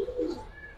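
A white pigeon gives a short, soft low coo close by, a single brief murmur with faint background noise.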